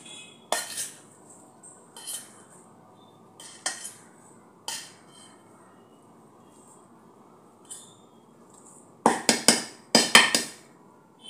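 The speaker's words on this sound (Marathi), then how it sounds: "बटाटे मॅश करून घेतलेले आहे।" Boiled potatoes are mashed in a metal pot, giving sparse metallic clinks and scrapes that cluster into a quick burst of knocks near the end, close by with quiet gaps between.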